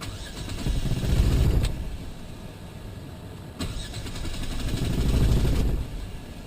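Jeep engine with a random multiple-cylinder misfire cranking repeatedly without catching, two long churning starter bursts separated by a brief pause, close and loud.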